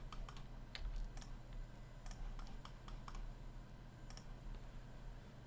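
Keys clatter in short irregular bursts as someone types commands on a computer keyboard while drafting in AutoCAD, soft and close over a low steady hum.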